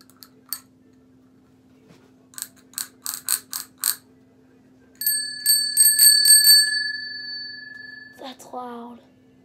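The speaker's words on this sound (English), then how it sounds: "A bell." A small bell unpacked from a bag alongside glasses, rung in several quick dings followed by a louder sustained ringing with a ratcheting mechanical edge, then a brief voice at the end.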